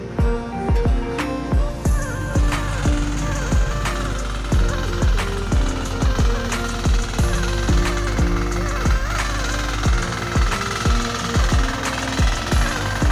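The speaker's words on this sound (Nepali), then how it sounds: "यो जोत्ने मेसिन दिएको रहेछ गाइज" A motorized tilling machine ploughs a farm field in Khotang, Nepal. A steady engine drone carries rapid, regular knocking pulses, close and loud throughout, with no talk.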